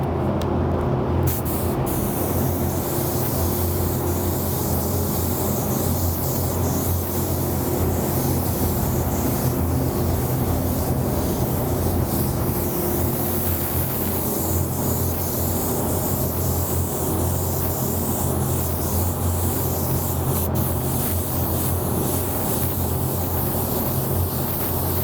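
Spray gun laying a coat of fluorescent aqua paint over blue, a loud continuous hissing blast of air and paint held steadily for about twenty-five seconds.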